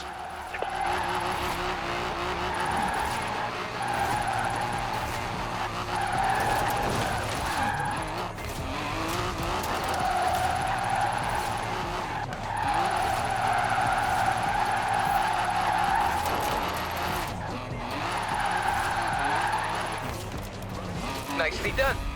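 A car drifting in the Forza Horizon 4 video game, its engine droning in long sustained sweeps with tire squeal rising and falling through repeated slides, loud and continuous for over twenty seconds with no speech.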